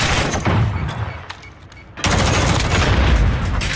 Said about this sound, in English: Nice little pre-fire there from Cell